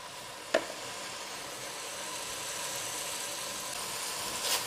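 Food seasoned with ginger powder and black pepper sizzling gently in a pan, a quiet continuous fry with one sharp utensil knock near the start and a light scrape at the end.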